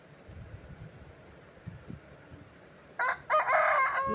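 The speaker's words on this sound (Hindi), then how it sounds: "ये बराबर वालों का मुर्गा है, इन्होंने अभी मुर्गा लिया है। वो इतनी अच्छी बांगे लगाता है" A neighbours' rooster on a rooftop crows loudly near the end, its cock-a-doodle-doo following quiet ambient noise and faint thumps.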